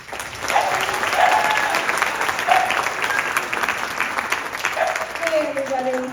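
Theater audience applause fills the room, steady and dense with many hands clapping at once, while a few brief voices and calls rise over it.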